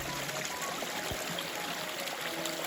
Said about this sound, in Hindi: बीच में ना एक छोटा सा नाला बह के जा रहा है